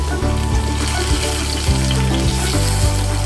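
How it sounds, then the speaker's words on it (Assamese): Chopped onion and tomato frying in a pan for soya chilli, a close, loud sizzle that stays steady, with a few clicks and stirring knocks and a low hum underneath. "সেয়েহে মই এনেকৈ এইখিনি ফ্ৰাই কৰি লওঁ অকণমানখিনি"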